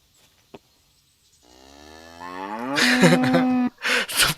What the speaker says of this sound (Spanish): Súper raro la vaca.